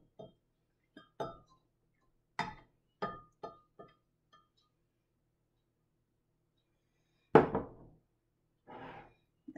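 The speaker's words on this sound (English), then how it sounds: "You can use your spatula and scrape it all out." Buttermilk batter with brown sugar scraped into a mixer bowl, heard as a few scattered clinks and knocks of a spatula against the bowl, followed by a louder scrape and knock near the end in an otherwise quiet kitchen.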